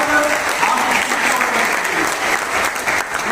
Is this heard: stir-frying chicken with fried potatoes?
no